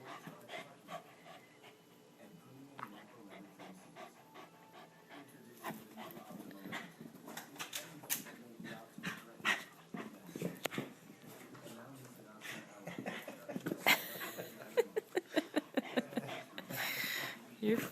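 A Shiba Inu mix dog pants and scuffles while playing indoors, with quick breathy bursts, thumps and small whimpers, and a person talks to it throughout.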